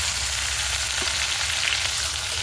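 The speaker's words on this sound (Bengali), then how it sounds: "মাছের তেলটা দিয়ে ভালো করে ভাজবো।" Fish fat sizzles in a pan already holding fried ginger and garlic, a steady, loud, continuous frying hiss with no talking.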